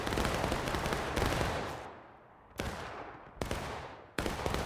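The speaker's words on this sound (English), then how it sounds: "See that one volley?" Musket volleys in the War of Rights game during a large East Woods skirmish, a dense crackling roar of massed fire followed by several sharper distinct volleys, heavy and sustained without talk.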